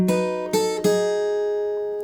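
Electric blues guitar lick with three sharply picked notes, the last featuring a quick pull-off from the flat seventh, leaving ringing sustained tones that slowly fade, played alone with no talking.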